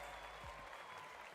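Crowd cheering and applauding in an arena at a Fortnite FNCS competition event, a steady dense roar from many people throughout.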